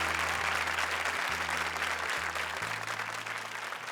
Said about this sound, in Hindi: जोरदार तालियां कुलदीप और शायांतनी के लिए।